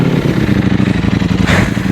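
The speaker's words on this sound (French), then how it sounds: "Je vais vous la démarrer parce que clairement..." A Ducati Panigale V4 Speciale sport motorcycle engine runs close by, a loud, steady, rumbling idle with dense low pulsing throughout and a brief swell near the end.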